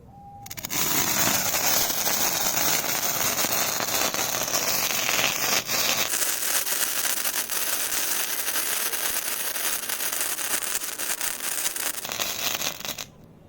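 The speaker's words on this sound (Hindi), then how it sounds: "क्रैकलिंग वाली फुलझड़ी है दोस्तों, ये बहुत ही अमेजिंग जलती है।" A Standard Fireworks crackling sparkler burns close by with a continuous dense crackle and fizz, steady for about twelve seconds before dying out.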